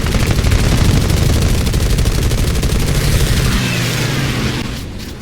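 Aircraft guns in a flight combat video game fire a long continuous rattling burst at a Catalina, loud and close, easing off in the final second.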